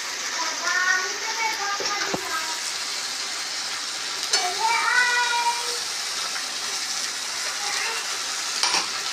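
Onion, ginger and garlic paste frying and being stirred in a pan for an egg curry, a steady sizzle with light spatula scrapes and occasional clinks, with voices briefly over it.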